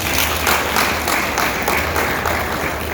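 A crowd at an event honouring pageant queens applauds continuously, with many hands clapping in a thick, even wash that stays loud and unbroken for about three seconds.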